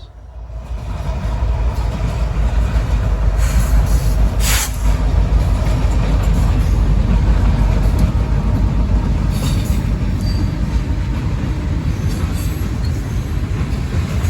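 An eastbound freight train with locomotives rolls past in Willmar, Minnesota, a loud, continuous rumble of wheels and cars with brief squeals, building quickly and holding steady.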